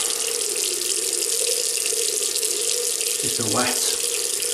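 Tap water runs steadily from a faucet to wet an alum block after shaving, a constant close hiss filling the whole moment with a brief voice near the end.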